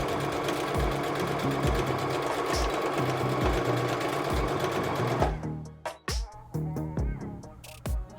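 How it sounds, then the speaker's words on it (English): Sewing machine stitching a fabric and webbing dog collar: a loud, fast, steady mechanical whir with rhythmic knocks from the needle, then stopping and restarting in short, close bursts near the end. "flip the collar over and use the same process to sew the opposite side."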